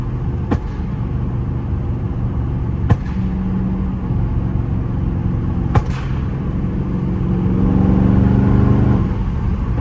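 Flame-tuned Dodge Charger Scat Pack pulling hard at night: a loud steady exhaust roar broken by three sharp pops and cracks, the engine note rising toward the end of the pull.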